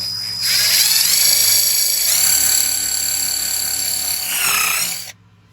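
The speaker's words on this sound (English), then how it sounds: "so that helps us stay in the middle to drill this hole" A power drill whines as it bores through a wooden board, the pitch dropping under load midway before rising again and cutting off abruptly.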